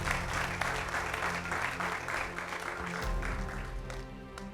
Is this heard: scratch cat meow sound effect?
no